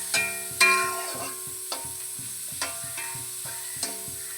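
Sliced onion goes into hot oil with coconut pieces for a Kerala pork fry, giving a continuous nearby sizzle with a few sharp stirring clicks and knocks.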